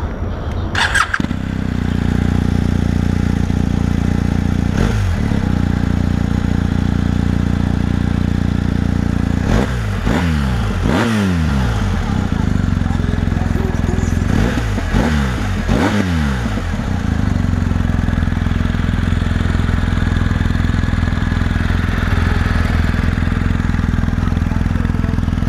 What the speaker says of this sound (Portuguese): Vou dar uma ideia para vocês aí no barulho dela com o escapamento original.